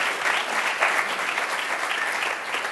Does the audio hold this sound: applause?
yes